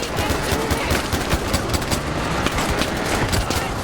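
Rapid automatic gunfire in the video game Far Cry 4, dense bursts of shots crackling continuously and loudly throughout, with no voices over them.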